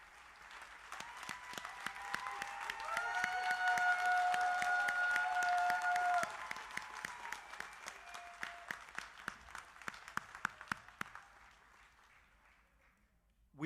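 Graduation audience applauding departing teachers, a sustained round of clapping that swells, holds and then thins into scattered claps before fading, with voices murmuring underneath.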